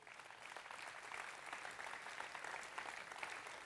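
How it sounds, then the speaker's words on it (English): A church revival audience applauds steadily throughout, a dense wash of clapping heard at moderate distance with no talk over it. "Quietly be seated and give them a round of applause."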